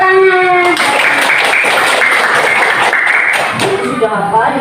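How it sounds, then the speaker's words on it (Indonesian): A group of people clap together, a steady broadband burst of applause lasting several seconds in an indoor classroom-style setting, loud and close, tapering off near the end with faint voices around it. "Tepuk tangan."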